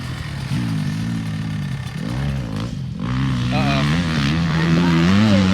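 A motocross motorcycle engine revs steadily while being ridden, its droning tone rising and falling with throttle changes, loud and continuous throughout.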